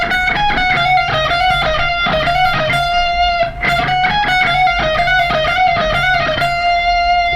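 A distorted electric guitar plays a solo lick, a loud repeating run of picked and hammered notes over a sustained high note, with no voice.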